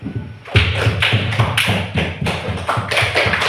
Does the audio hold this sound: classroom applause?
yes